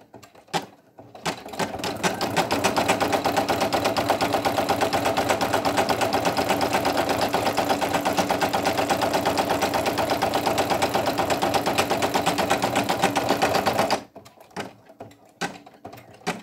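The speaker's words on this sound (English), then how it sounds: "We just need to satin stitch the waistband." A Brother single-needle sewing machine satin stitches a waistband on minky fabric, its rapid, even needle chatter running steadily for about twelve seconds before stopping, with only faint handling noises before and after.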